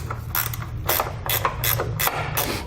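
A 10mm socket wrench ratchets bolts on the brackets for Rampage slimline round bars with hoop steps on a 2009 Jeep Wrangler. Close, steady clicking comes in several repeated bursts with no talk.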